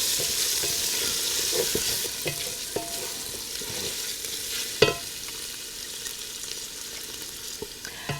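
Lamb sautés in a gas-heated pot for manestra lamb stew, a steady sizzle with intermittent scraping and clinking as it is stirred, close and alone without talk.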